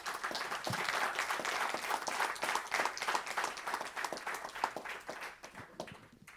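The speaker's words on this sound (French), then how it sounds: "on ne peut qu'applaudir donc tous les intervenants et notamment les coordinateurs scientifiques" A conference audience at a closing session of a colloquium applauds the speakers and scientific coordinators, sustained dense clapping from a crowd that thins and fades toward the end.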